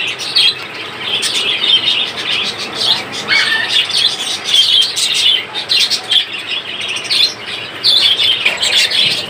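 A pair of Prince doves and other caged birds, including budgerigars, call together at a bird market, a loud dense wash of chirps and squawks that carries on without pause and has no talking.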